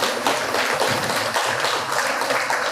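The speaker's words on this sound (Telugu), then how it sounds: "ఒక్కసారి బిగ్గరగా చప్పట్లు కొడదాం." Devotees at the Saibaba temple in Chintapally clap loudly together, a dense, sustained wash of applause from a crowd that carries on steadily with no clear voices.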